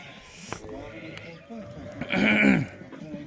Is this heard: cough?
no